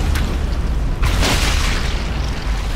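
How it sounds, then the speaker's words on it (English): A placed mine detonates in the video game Sniper Elite 5, a deep booming blast with a sharp onset followed by a rumbling, hissing decay. "That's the mine I placed earlier."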